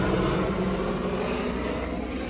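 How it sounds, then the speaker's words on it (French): A helicopter passes overhead, a steady, broad, loud drone that holds level throughout with no voices over it. "l'hélicoptère qui passe."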